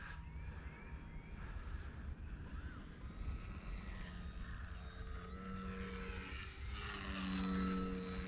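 A Bayer Laser 32-inch RC model airplane flying, a thin steady engine whine that holds at a distance and swells slightly near the end, with no talk over it.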